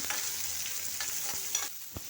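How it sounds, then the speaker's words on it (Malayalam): Large onions sizzle in hot oil for a jackfruit-leaf thoran, a steady, quiet frying hiss with a few soft stirring clicks near the end and no voices. "വലിയ ഉള്ളി ഇട്ടു കുറച്ച് വലിയ ഉള്ളിയും ചേർക്കുന്നുണ്ട്"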